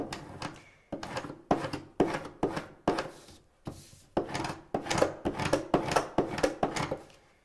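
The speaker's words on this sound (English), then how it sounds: "I'm using my scraper tool here, and it's going to help me burnish or make sure that my design sticks to the transfer tape" A scraper tool burnishing vinyl onto transfer tape, in rapid repeated scraping strokes that come in short bursts with brief pauses, close and fairly loud.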